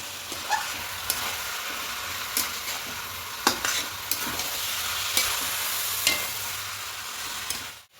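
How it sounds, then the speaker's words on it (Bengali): Rice is stir-fried with chicken mince for a pulao, giving a continuous sizzle punctuated by sharp spatula clicks and scrapes against the pan, close and clear, no voices. "এবার চালটা দিয়ে খুব ভালো করে মিশিয়ে একটু কষিয়ে নেব"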